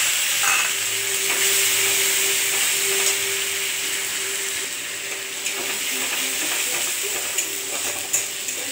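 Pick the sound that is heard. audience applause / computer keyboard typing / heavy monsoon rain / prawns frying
prawns frying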